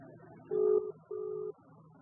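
A phone line rings twice, each ring a steady mid-pitched tone lasting about half a second, with a quiet murmur underneath and no answer.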